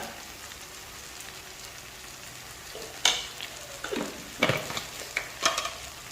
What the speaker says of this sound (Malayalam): ഇത് നല്ലതുപോലെ ഒന്ന് ഇളക്കി കൊടുക്കാം